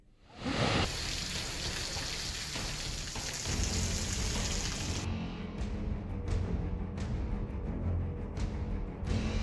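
Heavy monsoon downpour during flooding in Madhya Pradesh's Chhatarpur district, a loud, steady roar of rain hitting surfaces that continues without a break, with scattered louder drops splashing later on.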